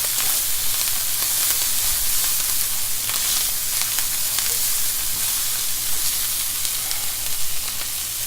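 Sausage frying in a pan and rendering out its fat, a dense, even sizzle with spitting crackles held close throughout, no voices over it.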